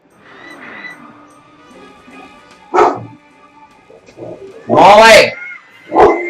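A pet dog named Molly bursts into loud barks and yips over a video game's music, with several sharp barks rising near the end while someone talks excitedly.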